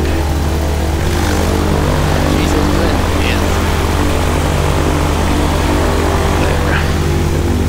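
The engine of a light propeller plane runs close and loud on the ground before takeoff. It holds a steady, unbroken droning hum throughout.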